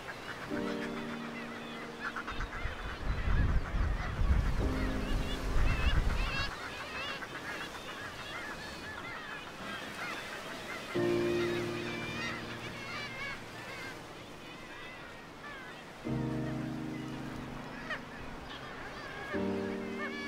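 Seabird colony of gannets, kittiwakes and fulmars on wild Shetland sea cliffs: repeated loud, harsh honking calls in several bursts over steady wind and colony noise, with a brief rumble of gusts.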